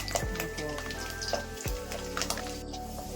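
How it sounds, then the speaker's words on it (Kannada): Garlic frying in a pan for a brinjal chutney, a steady close sizzle with small crackles and occasional stirring clinks, continuous throughout with no talk. "ಬೆಳ್ಳುಳ್ಳಿ ಫಸ್ಟ್ ಹಾಕೊಂಡು ಬೆಳ್ಳುಳ್ಳಿ ಫ್ರೈ ಮಾಡ್ಕೊತಾ ಇದ್ದೀನಿ"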